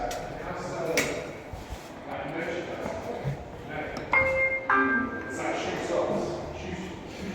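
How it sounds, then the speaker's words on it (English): A loud two-tone electronic chime rings out from a modernized 1992 FIAM-Schindler shopping-centre lift with a new motor and door operator, over a steady hum of machinery, with people talking nearby. "That is a loud chime."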